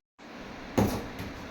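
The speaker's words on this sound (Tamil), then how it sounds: "கதவை மூடி விட்டுரு." An indoor door is pushed shut with a single soft thud after a short stretch of quiet room noise, close and fairly faint, in a home with cats.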